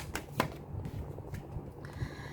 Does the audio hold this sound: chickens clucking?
no